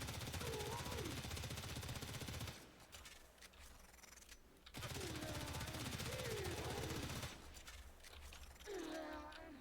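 Rapid automatic fire from the Stradavar Prime gun in the video game Warframe, dense rattling bursts broken by short pauses, played over with someone talking throughout.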